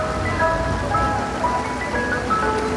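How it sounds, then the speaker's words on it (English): A Mister Softee ice cream truck in New York City plays its chiming jingle melody over the rumble of street traffic and crowd noise, steady and fairly loud. "We have the Mr. Softy truck,"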